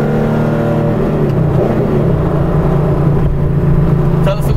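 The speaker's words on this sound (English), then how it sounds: "Lightweight flywheel, so I'm gonna downshift at a point here real quick." A modified 1991 Porsche 964 Carrera 2 with a lightweight flywheel revs up on a downshift, a loud, close engine drone with rising and falling tone.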